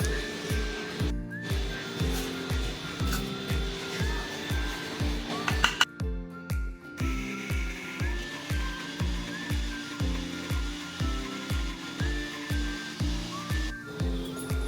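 Mixer grinder grinding soaked dal for dhokla batter, a loud motor whine that pulses on and off in steady, repeated bursts about every half second, with one short stop midway.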